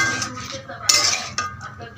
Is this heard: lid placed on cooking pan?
yes